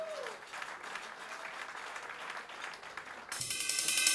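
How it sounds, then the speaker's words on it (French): Audience applause for the pastoral president at a leaders' dinner, a dense burst of clapping from the room that swells louder toward the end as music or cheering cuts in. "Et puis applaudissez bien évidemment quand même"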